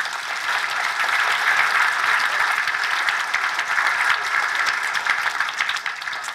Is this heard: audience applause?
yes